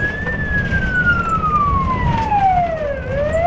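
Ambulance and patrol police car sirens wail together on a call in the Khmelnytskyi region, a loud gliding tone sweeping down and back up over constant traffic rumble.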